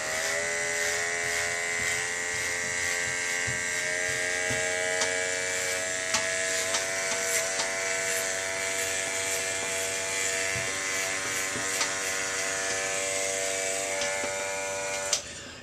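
A Conair electric trimmer buzzes steadily and continuously while shaving a beard. It stays close and loud with a constant motor hum and small clicks and scrapes as it passes over the face. No one speaks.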